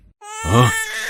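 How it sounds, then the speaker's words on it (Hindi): A newborn baby's cry in a devotional drama scene, one short, loud, close wail rising and then tapering off. "ये तो बच्चे के रोने की आवाज है।"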